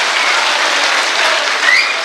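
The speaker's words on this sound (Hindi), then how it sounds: "तो मैं चाहता हूँ एक बार जोरदार तालियों से आप अपनी मौजूदगी दर्ज कराइए" A live audience at a Hindi poetry recital gives loud, dense, continuous applause, steady and full throughout with no talk over it.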